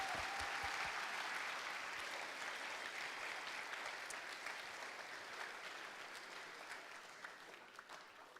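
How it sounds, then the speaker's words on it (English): Sustained crowd applause at a high school homecoming coronation ceremony, steady dense clapping that slowly fades over several seconds, heard alone without talk. "Let's give them one more round of applause before they pass the torch to the new homecoming king and queen."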